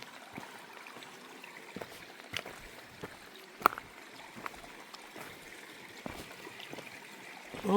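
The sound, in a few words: mountain stream flowing on the Appalachian Trail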